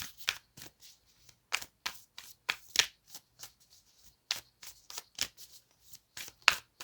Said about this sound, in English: just know that they have been shuffled many times